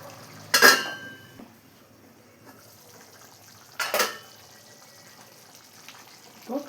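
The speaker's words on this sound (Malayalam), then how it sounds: "2 മിനിറ്റ് ഒന്ന് മൂടി വെച്ച് കൊടുക്കാം." A lid set down on a pot of fried cauliflower curry, two distinct metallic clanks a few seconds apart against a quiet kitchen background, close and fairly loud.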